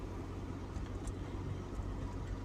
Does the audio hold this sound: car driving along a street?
yes